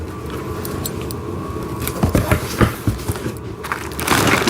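Packaging around wooden train set pieces, including bridges, is torn open and unwrapped, producing close crinkling and crunching bursts that grow louder toward the end, with no talking.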